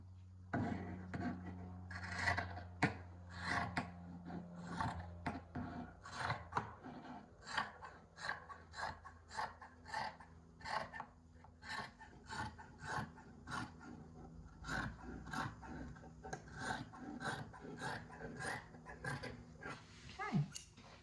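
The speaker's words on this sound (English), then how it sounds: "I'm going to just cut up the side, leaving a 1/2 inch seam allowance and across the top" Scissors cut through fabric up a side seam and across the top, producing a close series of regular crisp snips and rasping slices, steady and quiet with a low hum beneath.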